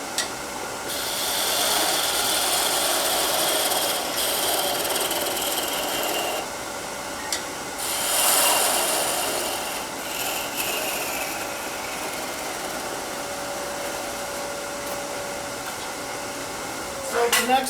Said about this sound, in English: Sand a little bit.